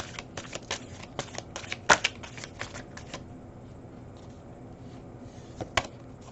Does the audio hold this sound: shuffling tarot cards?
yes